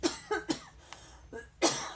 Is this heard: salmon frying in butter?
no